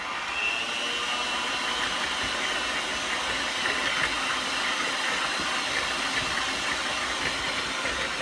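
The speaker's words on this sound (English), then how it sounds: "now we're gonna whisk it up Until it's nice and creamy" An electric mixer whisks butter in a bowl until creamy, giving a steady, even whirring hiss that holds throughout at constant loudness with no talk.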